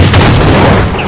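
Gunfire in the Counter-Strike 1.6 video game: a loud, dense burst of shots crammed into about a second, harsh and close.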